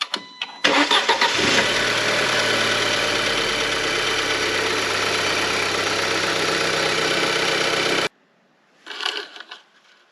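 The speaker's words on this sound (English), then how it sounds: "We're going to start it." A 2005-08 Audi A4 B7 with the 2.0 Turbo FSI engine cranks and catches, then settles into a steady, close idle for several seconds before cutting off, followed by a brief clatter.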